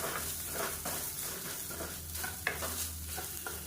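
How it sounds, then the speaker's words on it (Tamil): Grated coconut stirred in a hot pan with the gas off, steady soft sizzling under repeated scraping strokes of a spoon against the pan, close and fairly quiet. "அமர்த்திட்டு அந்த சூட்லேயே பரட்டினா போதும்."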